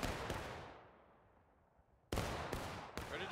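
Black-powder musket volleys in the American Civil War game War of Rights. A loud close shot fades into a long rolling decay, then three more sharp blasts follow in quick succession.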